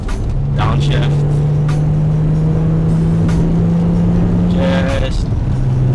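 A 2000 BMW Z3 M coupe climbs a hill after a downshift, its engine note rising steadily in one long, loud pull before easing off, heard close with a voice over it.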